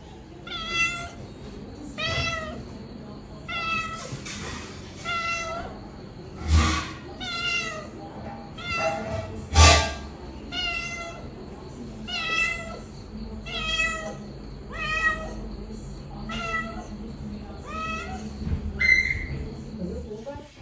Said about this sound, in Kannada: ಬೆಕ್ಕು ಇವಾಗ ಹಾಲು ಹಾಕಿ ಅಂತೇಳ್ಬಿಟ್ಟು ಕರಿತಾ ಇದೆ